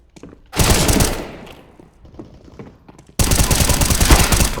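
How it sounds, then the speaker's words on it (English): Bursts of automatic gunfire in Counter-Strike: Global Offensive, with two loud sustained volleys separated by quieter scattered shots and in-game noise. "Thank God I missed so many shots."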